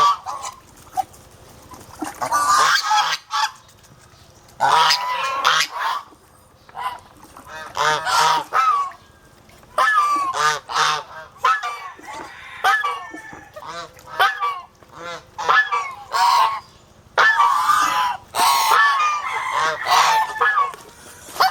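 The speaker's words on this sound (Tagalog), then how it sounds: "At ito yung si Biu Biu, pinakaunang sisiw sa kamunduhan ng gangsa" Geese honk loudly and close by in repeated bursts separated by short pauses, an irregular run of calls lasting the whole stretch.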